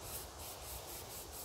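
Rolled sandpaper rubs by hand along a steering priority valve spindle, a soft steady scratchy rasp with faint back-and-forth pulses, close and quiet without any voices.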